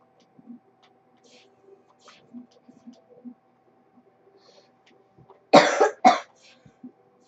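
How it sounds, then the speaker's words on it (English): Two harsh coughs close together, loud and close, following a stretch of near silence with faint scattered Terraria game sounds. "I'm sorry about the coughing."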